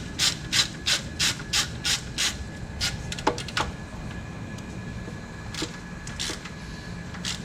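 A ratchet tightens a 10 mm bolt on the alternator of a 2007 Ford Mustang, with a run of quick, evenly spaced clicks, then scattered faster clicks and a few later strokes, close but moderately quiet.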